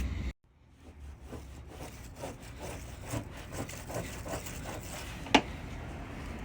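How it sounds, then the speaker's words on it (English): Rubbing strokes while cleaning the trunk gasket surfaces on a DC2 Integra, quiet repeated scrubbing with a sharp tap near the end. "Now we're just cleaning our surfaces."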